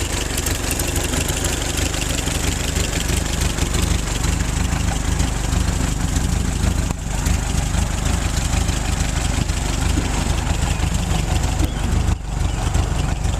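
A Model A Ford engine runs at a steady idle, a loud continuous rough mechanical chug with a rapid even pulse, close by and unbroken except for a couple of brief dips.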